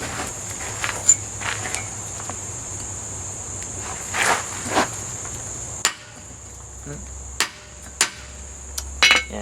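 Scattered metallic hammer strikes on rebar being forged and cut off at an anvil, irregular single blows over a constant high insect-like whine and low hum, fairly close.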